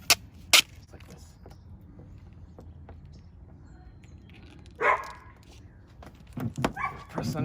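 A dog barks a few times in the background during a Type R emblem install on a 10th Gen Civic: two sharp barks at the start, then a muffled bark and a louder cluster near the end over faint room noise.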